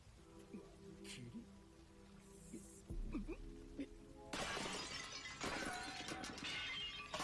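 Glass shatters in a One Piece anime scene, a sudden bright crash and scatter of fragments arriving partway through, set against background music and effects.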